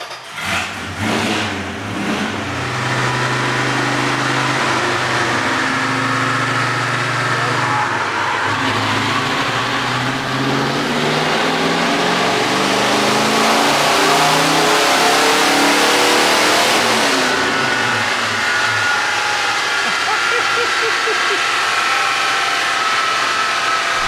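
A 1967 Dodge Charger engine on a rolling-road dyno inside a tin shed, revving hard and accelerating through a long, rising, loud roar that holds near peak before easing off, with faint talk underneath.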